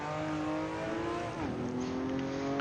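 Ruf RT12R sports car on the Road Atlanta track, its engine droning steadily under acceleration with a brief pitch dip near the middle, like a quick shift, then climbing again, close and loud with no talk.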